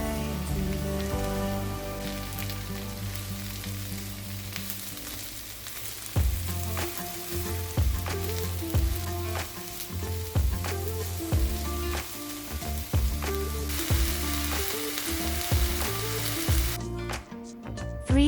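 Mushrooms tipped into onions frying in a pan give a steady sizzle that runs throughout, partly masked by loud background music with melody and beat.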